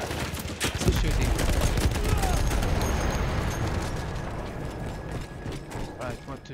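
Gunfire in the Battlefield 1 video game comes as a dense, loud clatter of rapid shots mixed with mechanical rattling, continuing without a break, with a player talking over it.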